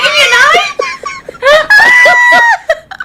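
A woman lets out a series of high-pitched, squealing screams and shrieks in quick bursts, very loud and close, with brief laugh-like breaks between them.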